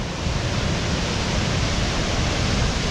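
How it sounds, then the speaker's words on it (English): A waterfall along the Fimmvorduhals trail in Iceland produces a loud, continuous broadband roar with no breaks or voices. "I keep hearing another waterfall"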